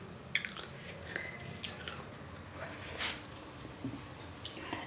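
Faint, brittle crunches as crispy fried murukku snacks are bitten and chewed close by, with a few sharper snaps among soft chewing noise at low volume.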